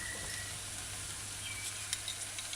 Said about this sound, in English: just stir it in with the cooked steak strips